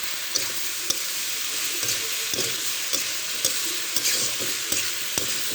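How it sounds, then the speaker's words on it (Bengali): Parshe fish curry with dry chili powder being stirred in a hot frying pan, a steady loud sizzle with regular spoon scrapes and taps against the pan about once a second. "এভাবে আমি নেড়ে চেড়ে নেবো দুই থেকে তিন মিনিট এভাবে নেড়ে নেবো"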